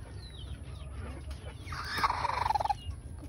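A hen sitting on her eggs gives a rising, drawn-out clucking call over a low background murmur, close and moderately loud, brief and alone.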